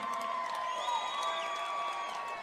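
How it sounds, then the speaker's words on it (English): A crowd at a Fusion Fight League event cheers and whoops for about two seconds, sounding loud and continuous, with scattered shouts and a few claps rising over the noise. "Let's give him a big round of applause, everybody."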